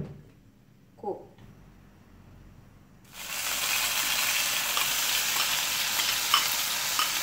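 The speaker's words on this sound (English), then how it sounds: "want to salt the onion and the chilies until the taste of onion is no more" Onion and chilies sautéing in a pan for Malaysian nasi lemak, a quiet start with a brief clatter before a loud, steady sizzle bursts in and holds to the end.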